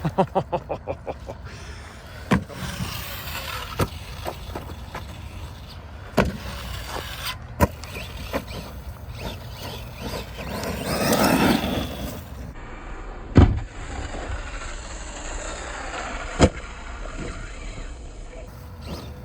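An Arrma Gorgon RC truck drives outdoors, its small electric motor whirring and surging in bursts with clattering knocks and thumps as it bounces over the ground, fairly close and loud throughout.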